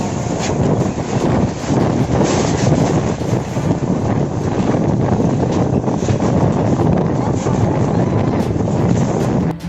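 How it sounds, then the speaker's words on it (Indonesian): A strong whirlwind sweeps over rice fields, heard as a loud, constant roar of wind buffeting the microphone, dense and unbroken for the whole stretch. "Pusaran angin yang begitu kencang itu pertama kali terlihat di sebuah area persawahan"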